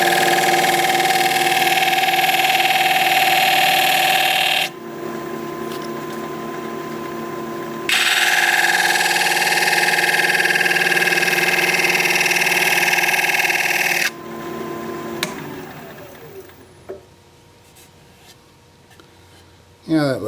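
Wood lathe spinning a thin cedar bowl, a loud, steady motor whine that drops out and returns as speed changes, then winds down and fades near the end.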